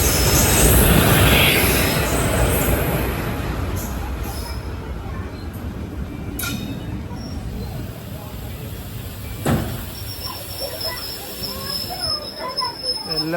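Passenger train pulling into Arumuganeri station on the Palakkad–Tiruchendur Express run, heard from aboard: a loud rumbling roll easing off, with a sharp clank partway through and faint squeals near the end.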